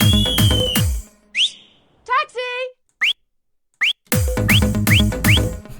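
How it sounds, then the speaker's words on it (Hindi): Whistle sample from an Indian sample pack, placed in an FL Studio beat for a Nagpuri track: loud rising whistle blips, some alone in silence and others over the pounding drum pattern. "मैंने यहाँ पर एक सीटी ड्रैग की"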